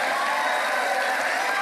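A live audience claps and cheers in a steady, full wash of applause with scattered voices mixed in, sustained at an even level throughout.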